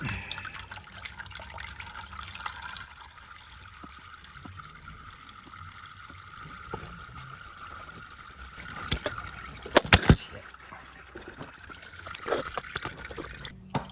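Transmission oil from a BMW M3/M4 DCT gearbox drains steadily into a pan, a faint continuous trickle with a few louder splashy drips near the end.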